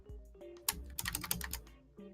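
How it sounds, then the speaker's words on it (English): Computer keyboard typing in a home setting during an online call, a quiet flurry of clicky keystrokes in a short burst with a faint low hum underneath. "Mute while you're typing"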